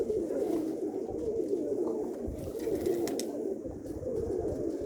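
Pigeons coo continuously in a low, throaty, rolling murmur, close and fairly steady, a dense flock sound with faint background noise and no talking.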